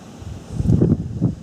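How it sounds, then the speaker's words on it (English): Wind gusts buffet the microphone in an open farm field during arrowhead hunting, a short burst of low, rumbling rushes that swell and fade close to the mic. "sorry about the wind"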